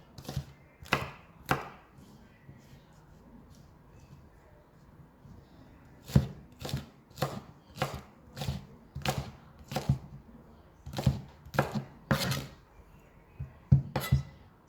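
Asparagus being chopped into small pieces on a cutting board, about a dozen crisp knife strikes in irregular bursts, close and fairly loud with quiet gaps between.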